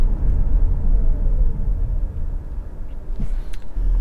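A 2021 Mitsubishi Outlander SEL PHEV accelerating hard in sport mode, heard from inside as a loud, steady low rumble of road and drivetrain noise with little distinct engine tone.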